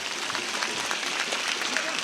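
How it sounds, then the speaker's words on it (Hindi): Crowd applause at a political rally in India, greeting a speaker on stage: a steady, dense wash of clapping that fills the whole short stretch at an even level. "दोनों हाथ उठाइए और ताली बजाकर उनका स्वागत करिए।"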